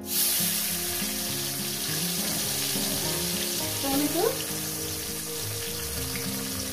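Chopped tomato and green chili fry in a pan for an okra curry, giving a steady close sizzle with a few stirring scrapes, under continuous background music.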